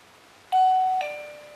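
A wireless doorbell used as a water tank level alarm rings once, a clear two-tone ding-dong chime that sounds close and loud and then fades away, with no voices.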